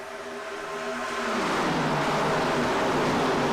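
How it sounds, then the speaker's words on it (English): Race cars in a racing sim video game roar around the Daytona high banks, a sustained engine drone that swells in volume over the first second and a half and then holds steady and loud, with no talk over it. "I will never tire of hearing these cars scream around the Daytona high banks"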